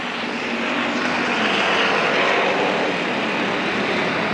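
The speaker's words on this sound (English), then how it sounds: "Green flag for Kirby, and everybody picks up the throttle." NASCAR bomber stock cars on the Ascot Speedway oval roar together in a dense, broad engine wash that swells steadily as the pack accelerates from the green flag, without any voices.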